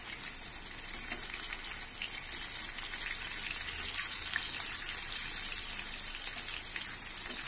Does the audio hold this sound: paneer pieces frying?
yes